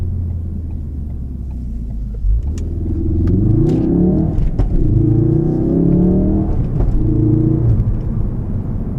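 A 2017 Ford Focus RS with a 2.3-litre engine rumbles at idle, then revs up in several rising, throaty pulls, loud and close from the cabin.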